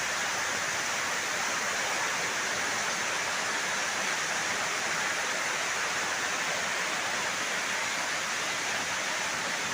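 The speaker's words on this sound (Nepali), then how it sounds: "त्यो पारी झन् ठुलो पानी परिरहेछ" Heavy rain pours down at night, a dense, unbroken roar of water that stays steady and even from start to finish with no voices.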